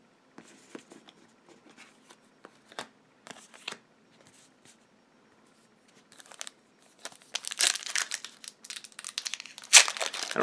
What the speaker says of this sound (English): I don't know why these packs aren't opening easy.